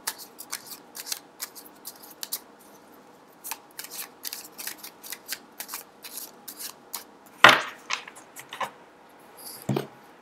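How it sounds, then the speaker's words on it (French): A deck of Morgan Greer tarot cards is shuffled by hand, with quick bursts of riffling and flicking card sounds in close, irregular runs, separated by short pauses and a couple of louder handling knocks. "elles sont très faciles, vous voyez, à mélanger, à battre également"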